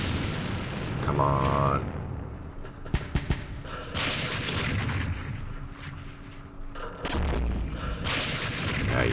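Artillery fire in the Vietnam wargame Campaign Series Vietnam, a series of deep booms and sharp blasts rolling under and between bursts of talk, loud and fairly close.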